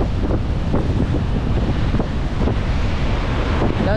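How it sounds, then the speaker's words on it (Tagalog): Heavy ocean waves at sea churn under strong wind buffeting the microphone, a continuous loud rush with recurring surges and no voices. "Doon, lalaki ng alon doon sa laot."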